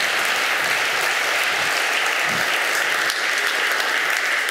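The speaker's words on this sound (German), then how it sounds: "Applaus." Sustained applause from a sizable conference audience after a talk at re:publica 2015, steady and even throughout with dense clapping and no pauses.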